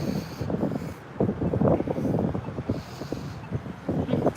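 Gusty wind buffets the microphone outdoors at a street crosswalk on a sunny day, a continuous rumbling low roar with uneven surges, close and fairly loud.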